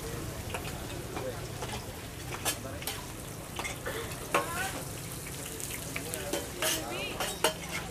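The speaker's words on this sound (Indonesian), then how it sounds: "Sing goreng ben makin semangat iki." Eggs and rice frying in a pan at a busy Indonesian food stall, with a steady loud sizzle and repeated scraping and clinking as the food is stirred, while voices and kitchen clatter sound in the background.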